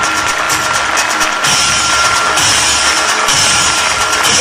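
Audience applause at a gathering: dense, loud, sustained clapping from a large crowd, continuous throughout with slight swells in intensity.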